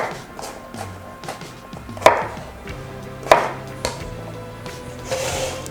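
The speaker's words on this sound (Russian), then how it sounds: "Немножко я его порежу" Knife cutting fresh cucumber on a board in a home kitchen, a few separate sharp chops spaced irregularly over low background hum.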